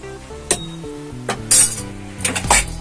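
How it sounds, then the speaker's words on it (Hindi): Metal utensil clinks and scrapes against a pressure cooker pot while stirring spices for sambhar, in a few brief bursts, with a low tonal hum steady underneath. "इसको खूब अच्छे से चला देती हूँ।"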